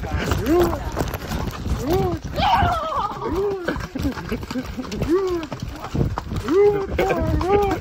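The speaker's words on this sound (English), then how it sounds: "right now we are on the horses in the water" Horse hooves clop in an uneven rhythm through water while people talk over them and the animals move around close by, in Jamaica.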